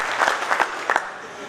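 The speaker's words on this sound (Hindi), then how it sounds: "तालियां।" Applause at a party gathering in Delhi, a modest round of clapping with a few distinct sharp claps standing out, heard under a speaking voice.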